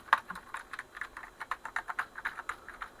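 Keys on an Atari 520STe keyboard are pressed one after another in a quick, uneven run of about twenty soft clicks, close and fairly quiet, with no talking.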